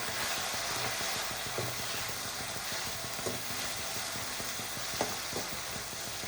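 Tomatoes and curry leaves fry in a hot pan for egg chutney, giving a loud, steady sizzle close by. A few soft clicks of stirring come through, and no one speaks.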